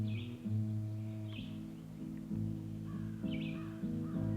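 Crows caw in a forest understory beneath the canopy, giving several hoarse, repeated calls in short bursts, moderately near, over a low steady hum and faint rustling.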